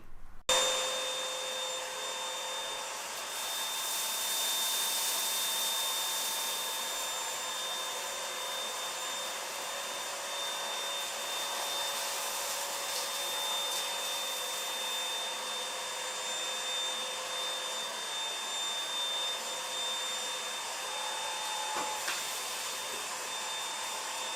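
A Dibea M500 vacuum cleaner runs steadily while sucking up rice, soil and dog hair from a floor, with a constant high whine and airy roar and a few faint rattles of debris being drawn in.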